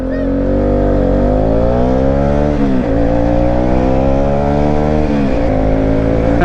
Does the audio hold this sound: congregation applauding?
no